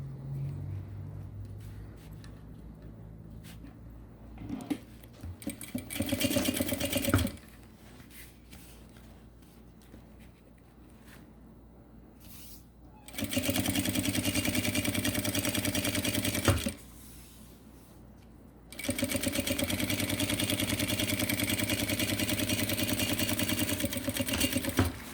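A sewing machine stitches the seam of a gym backpack in two long, loud continuous bursts of rapid whirring, separated by quieter handling and fabric rustling.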